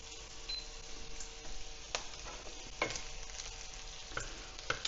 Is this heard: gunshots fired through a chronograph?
no